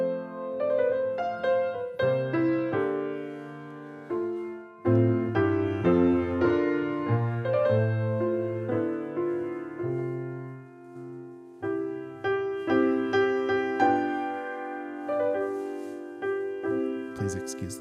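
An out-of-tune home piano played in a relaxed, somewhat dissonant passage of chords and melody, moderately soft and close, with phrases swelling and pausing, no talking.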